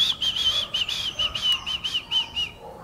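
A person whistles a quick, warbling high tune of short trills and pulses. The melody repeats for a few seconds, close and clear, with no speech.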